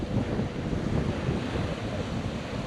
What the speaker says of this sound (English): There's a slight wind, but it's coming more from the southwest, I think, than from the northeast